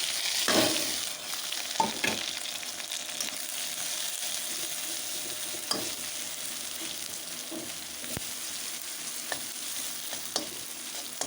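Ground cumin, green and dried chillies, crushed ginger and bay leaf frying in hot oil for a dal, a constant loud sizzle broken by sharp spatula scrapes and taps against the pan; no speech.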